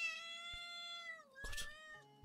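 A cat meowing inside the video game Animal Shelter Simulator, one long drawn-out, insistent meow that bends downward, then a shorter call, with a couple of brief clicks in between and no talking.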